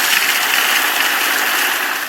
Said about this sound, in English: Here we go. The water's on.